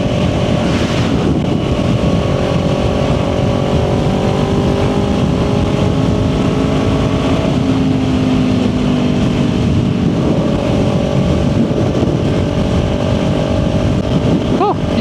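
Kawasaki Ninja 400 cruising at highway speed on the interstate, engine note humming steadily with small pitch dips and rises, heavily overlaid by continuous buffeting wind roar close to the rider throughout.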